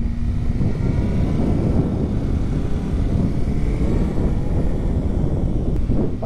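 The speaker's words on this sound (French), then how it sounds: "Alors en première, à bas régime, elle a un peu tendance à brouter." A 2009 Suzuki GSR 600 motorcycle judders in first gear at low revs, making a loud, continuous low rumble that runs unbroken throughout, mixed with wind noise on the microphone.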